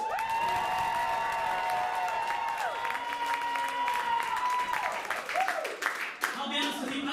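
Applause and cheering from a live crowd at a political comedy show, a sustained dense wash of clapping with occasional whoops and tonal bursts over roughly seven seconds, loud and continuous.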